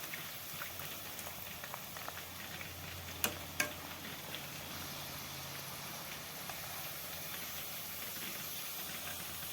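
Potato pieces deep frying in oil give a faint, steady hiss and bubbling, with a few sharp ticks and clicks, and no voices.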